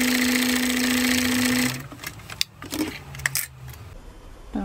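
A sewing machine with an adjustable bias binding foot whirs steadily for under two seconds, then stops, leaving light clicks and small handling noises close by.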